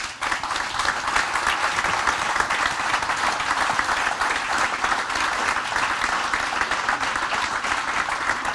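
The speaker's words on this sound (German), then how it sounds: "Herzlicher Applaus bitte." Warm applause from a live stage-show audience at the Kalaluna venue welcoming a guest, dense continuous clapping that stays loud and even for several seconds, with no talk over it.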